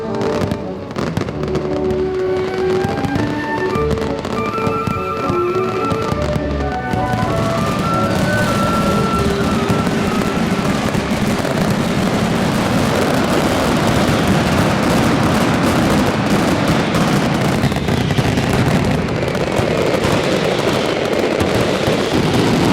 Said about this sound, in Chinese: 瓦伦西亚沉浸在焰火的云雾里